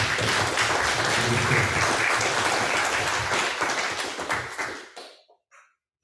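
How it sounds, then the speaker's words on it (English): An audience at an OECD conference opening panel on entrepreneurs breaks into loud, dense applause that holds for several seconds and then quickly dies away into silence. "please give a big round of applause as Mr. Osman comes up here and shares his pe"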